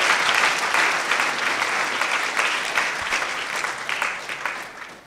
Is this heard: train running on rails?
no